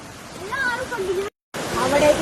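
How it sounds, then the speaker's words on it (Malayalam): A waterfall near Munnar's tea and cardamom estates gives off a steady rushing hiss in the background while people talk over it, with a brief gap of silence partway through. "ഇപ്പൊ നമ്മള് വെള്ളച്ചാട്ടത്തിന്റെ അടുത്ത് എത്താറായിട്ടുണ്ട് കേട്ടോ. അതിന്റെ സൗണ്ട് കേൾക്കാലോ."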